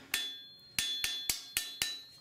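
Hammer blows on a hot forged steel blade resting on an anvil during bladesmithing, six sharp ringing strikes, the first alone and the rest in a steady rhythm, close and loud with a metallic ring after each.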